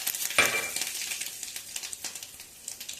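Curry leaves and tempering spices (seasoning seeds) sizzle and crackle in two tablespoons of hot oil, with a loud burst of spitting at the start that settles into steady close frying with scattered pops.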